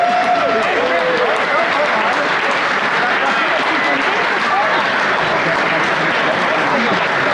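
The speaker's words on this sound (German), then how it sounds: "Und nochmal einen riesen Applaus für unsere charmanten Hostessen." Loud, sustained applause fills a gala honors ceremony marking an association's 30th anniversary, a dense, even crowd clapping throughout, with a brief voice or cheer rising near the start.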